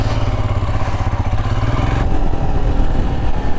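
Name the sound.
Royal Enfield Himalayan 2023 motorcycle engine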